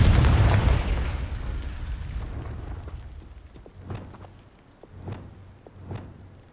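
A loud, booming fire-spell explosion in the video game Hogwarts Legacy bursts at once and rumbles away, followed by several smaller muffled pops and thuds.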